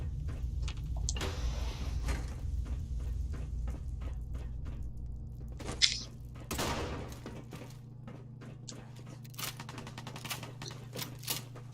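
Shotgun fire in the game Fallout 4, a string of sharp blasts spaced unevenly across the stretch, with a couple of louder booms standing out over a low background hum and clicks.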